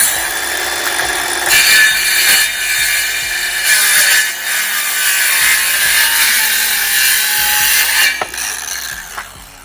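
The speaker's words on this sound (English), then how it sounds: "Just like that, we cut our wood." A power saw whines loudly through wood, its pitch dipping under load as the blade bites, with brief pauses and a rattle as the cut finishes.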